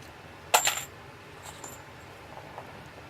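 Brass .45 ACP cartridge cases being sorted, giving one bright metallic clinking burst near the start and then a few faint light taps in an otherwise quiet room.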